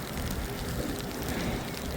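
Mixed snow and rain falling on a cold New York City street during a heavy snowstorm, a steady soft hiss of pattering precipitation at moderate level with no voices.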